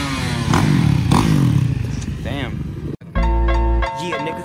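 A quad bike engine revving hard during a wheelie attempt, loud and close with clattering, mixed with people talking, then a sharp cut to a steady high drone.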